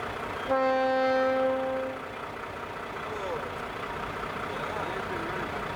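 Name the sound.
train passing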